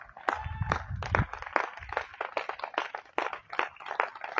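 Congregation clapping hands during a church service: irregular, sharp claps close by, mixed with some low thumps and shuffling.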